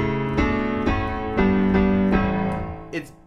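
Piano chords struck one after another at a steady pace, each ringing briefly before the next, ending with a lighter final touch.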